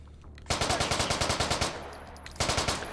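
Video game gunfire in two loud, close bursts of rapid automatic shots with a short pause between, no talk.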